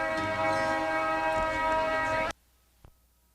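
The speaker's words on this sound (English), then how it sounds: "Might as well let this train goes by." A loud, steady rumble of a train going by in Scartaglen, droning and sustained, then it cuts off abruptly to near silence with a brief faint knock.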